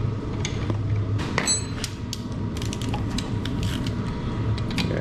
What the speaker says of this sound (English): just torque those up now